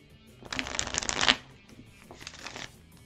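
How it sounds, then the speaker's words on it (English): A deck of playing cards is shuffled twice in quick succession, a loud riffling burst followed by a softer second riffle, close by with no talking. "I've already shuffled the cards, but you know, can't hurt to shuffle them more"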